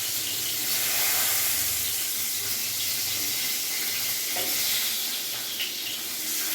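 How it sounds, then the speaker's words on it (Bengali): Pieces of pointed gourd (potol) sizzle in hot oil in a pan, a steady, close crackling hiss that holds evenly throughout with no voices. "আমার পটলগুলো ভাজা হয়ে গেছে"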